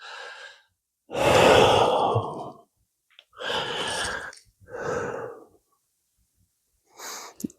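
Deep, slow breaths taken while holding a balance pose during a core and push-up workout, several long audible inhales and exhales close to the mic with silent gaps between them.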